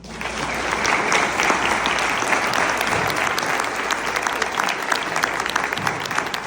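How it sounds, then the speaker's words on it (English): Sustained applause from an audience for mayors at a general membership meeting and mayoral forum, dense steady clapping filling the room throughout. "just give them a big round of applause for even being willing to be here today and meet with you"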